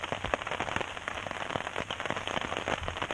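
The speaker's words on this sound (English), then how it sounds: "I'm going to see if I can get to sleep in this really heavy rainstorm" Heavy rain during a storm in the Welsh wilderness pours down steadily and densely, a constant close hiss with fine patters of drops throughout and no talking.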